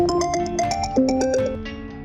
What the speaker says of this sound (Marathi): देशमाने साहेबांचा फोन.